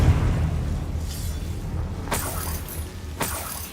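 A Confringo blasting spell in Hogwarts Legacy goes off with sharp bursts and booms, two bright cracks standing out over a steady low rumbling game backdrop, with no talk.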